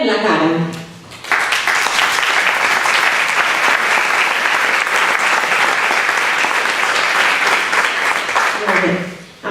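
Sustained, dense crowd applause at a public reading of a manifesto against gender violence in the Catalan village of Vilosell, loud and steady for about eight seconds, with a voice speaking just before and after.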